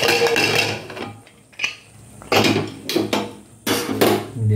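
Metal pressure cooker lid being worked open after whistling while cooking Odisha dalma, a series of loud clanks and scraping knocks in separate bursts with short quiet gaps, close up and without talk.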